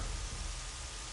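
Rain falls steadily outdoors, an even, faint hiss of drops with no voices and no distinct events, just a continuous wash of noise.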